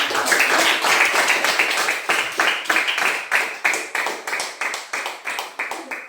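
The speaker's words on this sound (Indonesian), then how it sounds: "Kita berikan tepuk tangan untuk teman-teman." A class of schoolchildren clapping hands together, close and loud, quick individual claps with a rough rhythm that grows more regular and distinct as it goes on.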